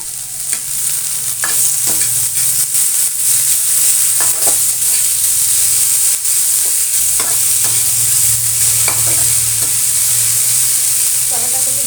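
Chopped tomato sizzles loudly in a pan, with frequent scraping stirs of a spatula over a continuous close frying hiss and no talk.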